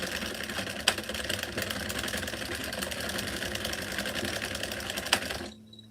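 A hand-cranked knitting machine worked continuously during a community cranking session, giving a steady mechanical whir with a rapid repetitive clatter, close and fairly loud, with a couple of sharper clunks before stopping abruptly near the end.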